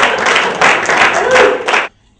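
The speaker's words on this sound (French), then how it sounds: "on l'applaudit bien fort" An audience applauds for about two seconds, with loud, close, dense clapping that cuts off abruptly, leaving near silence.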